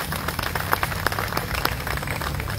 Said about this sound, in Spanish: yo les pido que demos un aplauso también al Señor